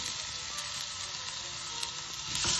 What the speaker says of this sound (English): Add all together and slowly cook until it's tender.